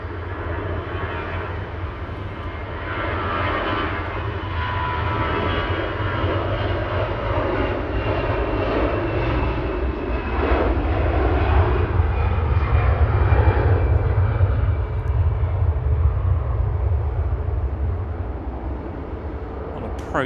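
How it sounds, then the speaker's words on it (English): An EasyJet airliner rolls at Manchester Airport, its engines a steady, loud, broad roar that swells slightly midway and holds for twenty seconds, heard outdoors with no talking. "EasyJet rolling in the background off to Reykjavik."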